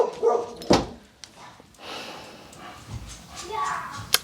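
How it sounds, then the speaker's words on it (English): A protective dog barks at its owner making noise in the front yard, with a few sharp barks and yips scattered between quieter stretches, heard along with a speaking voice. "He's barking at my husband, his owner, because his owner is making noise in his front yard."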